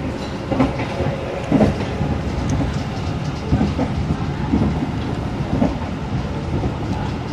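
Argo Bromo Anggrek express train running at about 114 km/h, heard from inside a carriage as a continuous rumble with regular clickety-clack wheel beats over rail joints.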